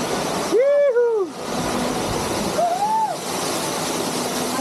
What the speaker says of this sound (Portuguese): Muito massa a parada da cachoeira.